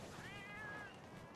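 A single cat meows once, a drawn-out, wavering cry at moderate distance, heard alone over a steady background hum.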